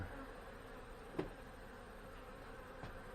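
Honey bees hum faintly around a tall hive of three medium boxes whose colony has swarmed, a low, steady buzz broken by a couple of soft, brief taps.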